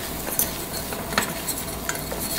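Flour and butter stirred into a roux in a pan on the stove, with a steady sizzle and scattered light clinks of a utensil against the pan, close and moderately loud, no voices.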